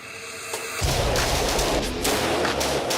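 An AK assault rifle fires outdoors, letting out a dense, booming burst of shots that runs steadily for about two seconds after a brief quiet start.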